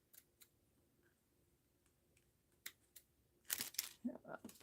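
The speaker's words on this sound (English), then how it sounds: "Let's cut the ends off here." Scissors snip the ends off fringed paper during a mixed-media art journal session, a few quick close cuts near the end after quieter handling sounds and small ticks.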